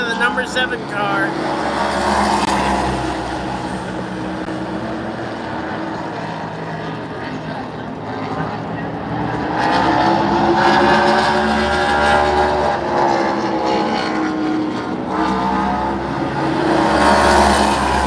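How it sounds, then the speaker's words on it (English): A NASCAR Cup Series race car roars through a final qualifying run at Bristol Motor Speedway, its loud engine swelling and fading as it circles the track under continuous commentary. "Final qualifying run of the number 7 car."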